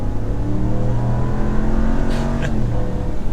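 A 2022 Dodge RAM 1500 Big Horn Night Edition eTorque hybrid pickup accelerates hard, its engine droning loud and steady with a rising, shifting pitch heard from inside the cab.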